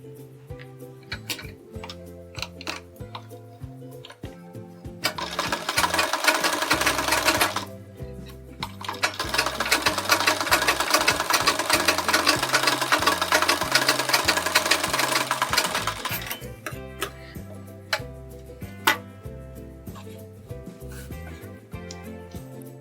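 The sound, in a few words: sewing machine stitching a sleeve seam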